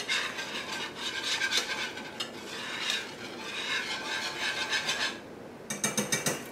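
A spoon scraping and stirring a simmering Alfredo sauce in a pan, with steady rhythmic rasping strokes and a few sharper clicks near the end.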